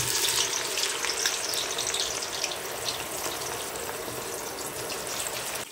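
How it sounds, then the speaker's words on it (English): Onions frying in hot vegetable oil in a pot for a Nigerian assorted meat stew give a loud, dense, continuous sizzle that holds steady from start to finish, with no voices. "then I'll be adding the onions."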